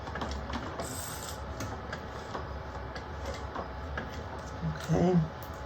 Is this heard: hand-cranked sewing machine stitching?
yes